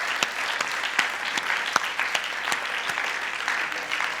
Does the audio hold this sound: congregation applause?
yes